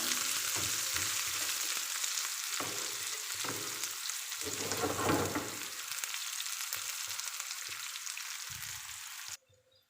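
Spices fry with a steady bright sizzle in a pan while a spoon stirs and scrapes them in irregular close strokes, and the sizzling cuts off abruptly at the end.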